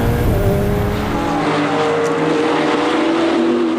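Porsche and Ferrari race cars racing at the Ledenon circuit, loud high-revving engine whine that holds steady then shifts pitch as a car passes close by.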